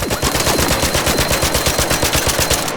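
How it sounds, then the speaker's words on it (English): Rattler rifle fitted with a compensator and angle grip firing full-auto in Arc Raiders, a rapid, steady stream of loud, close gunshots with no pauses. "now you're going to see what happens to a Rattler when we have a Compensator and an angle grip on it"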